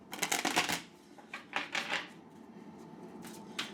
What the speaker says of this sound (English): Neither of these decks like to shuffle very much lately.